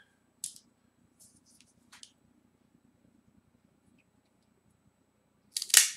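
A premium Espinosa Especial No. 4 cigar is cut quietly: a few faint clicks and rustles, then one sharp, close snip near the end.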